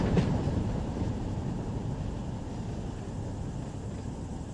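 Train rolling steadily in the Run 8 train simulator near West Colton, San Bernardino and Barstow, a continuous low rumble with a faint rhythmic clatter, moderately loud and even throughout with no voices.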